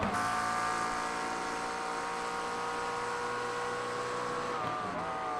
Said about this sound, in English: Let's see what the gearbox sounds like.